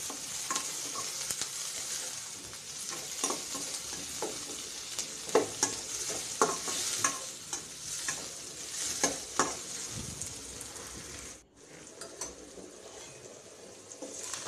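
Finely chopped onion and two or three green chillies fry in a pan with cumin, giving a continuous soft sizzle punctuated by repeated spatula scrapes and stirring clatter, fairly close, with a brief dip near the end.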